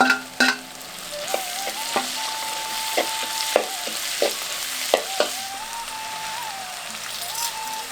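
Crushed small shallots sauté in hot oil with asafoetida in a pan for Tamil vatha kuzhambu, a steady soft sizzle broken by sharp, irregular taps and scrapes of a spatula stirring, with no talking.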